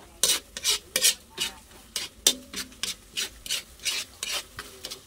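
Butter shrimp stirred in an oily pan, a steady run of about a dozen rhythmic scraping strokes over a soft sizzle, close and fairly loud with no voices.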